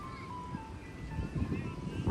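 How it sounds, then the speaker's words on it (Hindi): An ice cream truck in an American park plays its tinny jingle, with steady engine rumble and background noise underneath and a brief louder burst at the end. "ये आइसक्रीम की गाड़ी है उधर"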